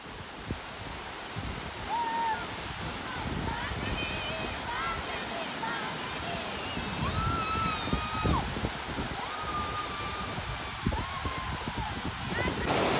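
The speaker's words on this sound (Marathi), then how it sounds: "धबधबा बघा, आता वॉटरफॉल बघा कसा दिसतोय" A hidden waterfall near Bhimashankar roars as a steady broadband rush, with voices talking over it throughout.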